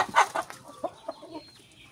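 A few close, abrupt clucks from unfed chickens in the afternoon in quick succession, fading into quieter calls by the end.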